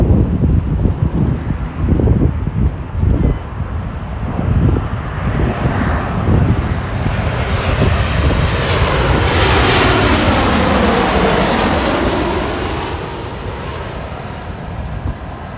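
A twenty-year-old United Airlines Boeing 737-800 comes in to land at Los Angeles International Airport, its jet roar swelling steadily to a loud, sustained peak over gusty wind noise before easing slightly.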